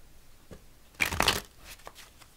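A brief burst of papery riffling as a deck of tarot cards is shuffled, close and fairly soft, with a few faint taps before and after.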